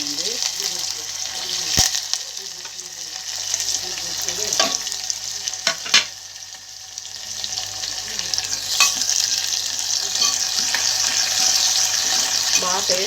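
Urad dal fries in hot tempering oil for an Andhra broad bean dish, a loud, bright, continuous sizzle and crackle with a few sharp clinks of a spoon against the pan.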